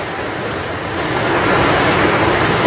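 Floodwater rushes like a river across a road, a steady, loud broadband roar that swells slightly partway through, with no voices.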